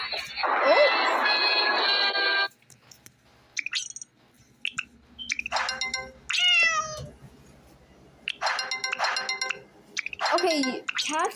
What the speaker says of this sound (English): Okay, cats. Meow, meow, meow.